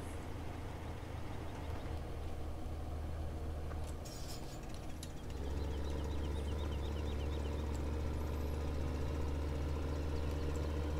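A tractor engine in the video game Farming Simulator 2015 hums low and steady at modest volume. The drone deepens and strengthens about halfway through, with no talking.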